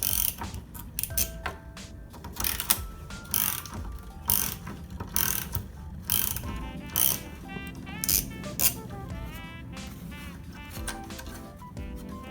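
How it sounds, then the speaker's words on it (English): Ratchet with a 10mm deep socket backing off the small nuts holding a grille emblem on a Chevy S10 pickup, clicking in quick rapid bursts with brief pauses, close and loud. "you just take a 10mm deep socket and remove these little nuts"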